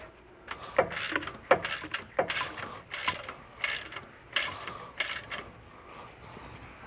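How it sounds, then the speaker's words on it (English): A hand ratchet run down a nut on a rear control arm bolt of a 2014-2018 BMW F15 X5, rapid clicking bursts in short repeated strokes, close and fairly quiet with brief pauses between pulls. "I'm not tightening these down all the way. I'm just bottoming the nut out."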